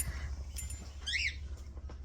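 Faint bird chirps and a short rising-falling call over a steady low hum, heard indoors near ducklings and goslings, with scattered soft rustles and no talk.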